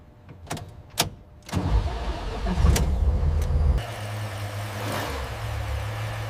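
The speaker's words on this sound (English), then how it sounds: "The starter turned, and the legendary V12 awakened differently this time." A 1957 Ferrari 335 S Scaglietti V12 cranks over in a workshop after a fuel change, with sharp clicks at first, then a loud rising burst as it fires and settles into a steady, rough, close idle.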